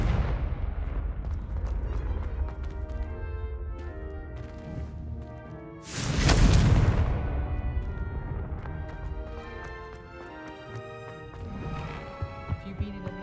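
A Confringo fire-blast spell erupts in the Hogwarts Legacy video game, a single heavy booming burst midway that swells loud and decays slowly, set within layered game music and rumbling effects.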